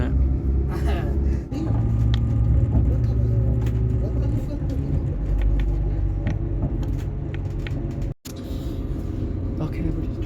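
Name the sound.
car driving along the road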